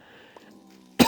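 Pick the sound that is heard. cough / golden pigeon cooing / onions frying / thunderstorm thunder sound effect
cough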